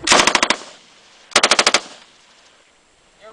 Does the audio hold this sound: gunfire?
yes